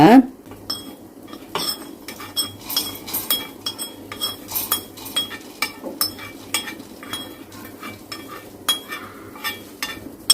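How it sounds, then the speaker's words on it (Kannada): Cooked ingredients being spooned from a pan into a mixie jar, with a steady run of sharp metal clinks and scrapes of spoon on steel, close and fairly loud, over a low background hum. "ಈ ಮಿಕ್ಸಿ ಜಾರಿಗೆ ನಾನು ಟ್ರಾನ್ಸ್ಫರ್ ಮಾಡ್ತೀನಿ ಇದನ್ನೆಲ್ಲ"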